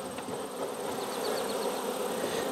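Bees hum around a small colony, a close, steady buzz with individual insects weaving past and rising slightly as they near.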